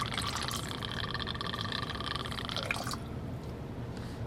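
Peppermint schnapps, 1.5 ounces, pours into an eggnog cocktail as a soft, close liquid trickle with faint splashy drips, fading out after about three seconds into quiet.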